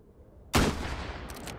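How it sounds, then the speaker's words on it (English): Gunfire in the VR shooting game Hot Dogs, Horseshoes & Hand Grenades: a sudden loud burst of shots erupts after near silence, followed by a sustained noisy tail and a few fainter cracks. "Oh, are you shooting me?"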